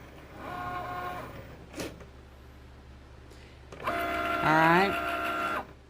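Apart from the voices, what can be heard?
Cricut cutting machine working and sliding the mat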